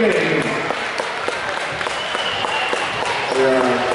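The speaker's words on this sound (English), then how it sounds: "Henryetta.com has given a round of applause" Crowd applause at a high school boys' basketball game in a gym, a steady wash of clapping and cheering throughout, loud and dense with a voice audible near the end.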